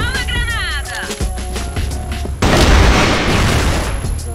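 Grenade blast in an online shooter game, a sudden loud booming burst with rumbling debris after earlier chirping game effects and gunfire.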